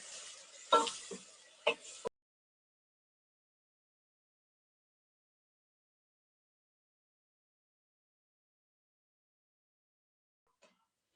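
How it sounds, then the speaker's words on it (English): Onions and celery sauté in a pot for cream of lentil soup, giving a short burst of sizzling with a few crackling pops for about two seconds before everything falls silent. "Now, we don't want to burn the onions. We just want to saute them."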